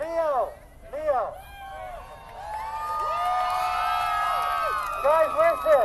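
Animal rights march crowd in Washington DC shouting and cheering, with a few loud, raised voices in short bursts giving way to a sustained mass of overlapping cries and whoops.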